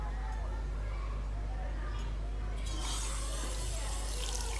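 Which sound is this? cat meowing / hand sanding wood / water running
water running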